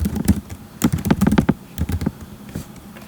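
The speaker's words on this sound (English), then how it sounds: "So we need to type the password length." Fast typing on a computer keyboard while writing Python code, with irregular clusters of close, crisp key clicks and short pauses between bursts.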